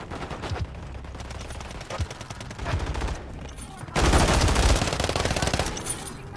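Rapid automatic gunfire in Call of Duty MWIII multiplayer, sustained bursts that grow louder and denser in the second half, with sharp individual shots cracking through.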